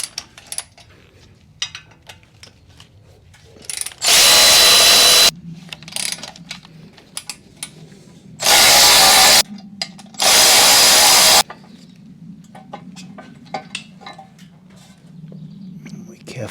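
A power tool fitted with a 1/4 inch Allen socket backs out the front fender screws on a Harley-Davidson Softail Sport Glide. Three loud, close bursts of whirring are heard, with quieter handling noises and clicks between them.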